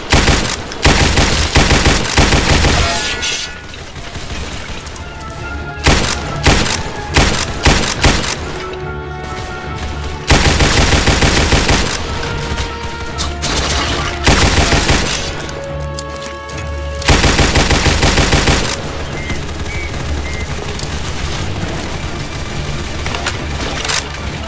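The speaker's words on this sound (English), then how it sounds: "The MGs can still do some good focus damage if you burst fire too." Rapid machine gun bursts in the Roblox World War I shooter Entrenched, loud broadband clatter in repeated short volleys with brief pauses between, layered with other battlefield gunfire and impacts.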